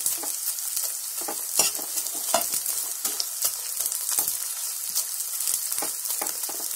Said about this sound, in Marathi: हा घी तापला ना की लगेच ह्याच्यात डिंक टाकला की लगेच फ्राय होतो बघा